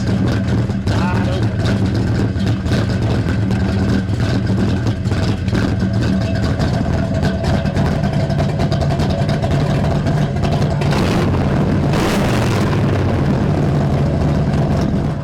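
A 1956 Chevy 210 two-door hardtop restomod with a big-block V8 and exhaust cutouts, rumbling steadily and loud up close, with a deep engine drone and a brief surge late on.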